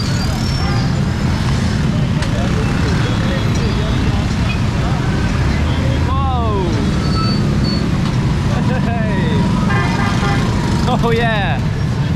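Steady road noise from traffic and engines fills a motorbike ride through flooded streets in Lahore, with horns or chirps cutting through and people talking at moments.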